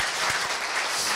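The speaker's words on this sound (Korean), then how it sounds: "우리 시장님께 다시 한번 큰 박수 부탁드립니다" An audience gives a brief burst of dense applause for a city mayor at a labour, management and government forum held at Korea University in Seoul.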